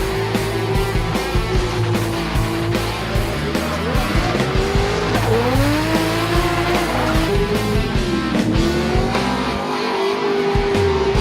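Loud drift cars at the Autodrome de Montmagny during a DMCC Drift round, engines roaring and revving under long, sustained tire screeches that rise and fall as cars slide past close by.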